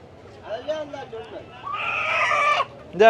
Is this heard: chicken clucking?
yes